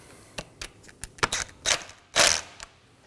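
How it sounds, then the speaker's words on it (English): An 8mm bolt being snugged down on the throttle body of a 2011 or later Dodge Durango, heard as a few close, quick ratchet clicks and short mechanical bursts of varying length with brief pauses between. "And now we can hand thread on our 8mm bolt. Snug it down."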